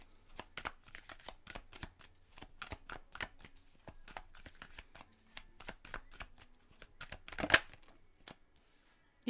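A deck of cards for a tarot-style card reading is shuffled in a rapid run of crisp riffling snaps and flicks, close and clear, with a brief louder burst near the end and no talk.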